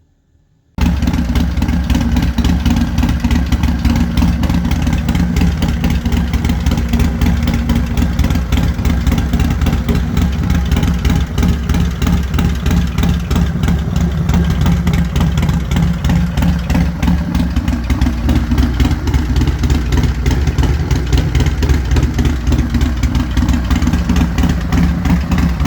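A tuned engine with a Gen 2 cam idles after a short silence, a loud, lumpy, rhythmic rumble that holds steady and close for the whole stretch, with no voices.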